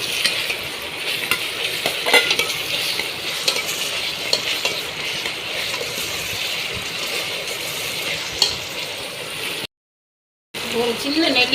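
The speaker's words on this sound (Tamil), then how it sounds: "ஒரு சின்ன நெல்லிக்காய் மாதிரி அதை நல்லா வதக்கிக்கிறோம்" Onions and tomato sautéing in a pan for a Mangalore prawn and dried fish curry, a steady sizzle with stirring scrapes close up, someone talking over it and a brief dropout near the end.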